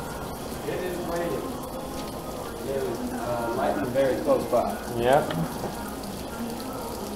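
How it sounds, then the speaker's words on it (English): Steady rain falls outdoors, a continuous broadband hiss that runs through the whole stretch while someone talks over it nearby. "it's raining now."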